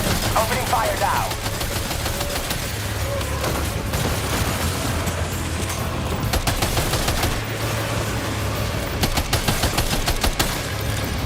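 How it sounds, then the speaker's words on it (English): Sustained gunfire in the video game Death Stranding 2, with rapid overlapping shots and booms over a constant droning game soundscape, loud and dense throughout. "Opening fire now."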